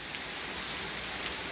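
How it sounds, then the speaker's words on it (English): Steady, dense rain falling on a stormy afternoon, a continuous close hiss of drops hitting surfaces with no voices, holding an even level throughout. "So here I go filming the rain, as always."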